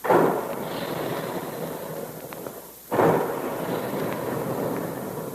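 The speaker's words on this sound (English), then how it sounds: "And there go the big guns" Big guns firing as a vintage radio-drama sound effect: two heavy, booming blasts a few seconds apart, each followed by a long rumbling decay, loud and alone without voices.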